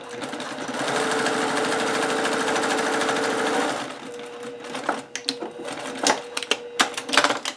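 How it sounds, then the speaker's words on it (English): A sewing machine stitches fabric for a reusable Christmas cracker, a steady close whirring run for several seconds, then stops and gives way to scattered clicks and handling knocks. "I'm going to sew this to the middle"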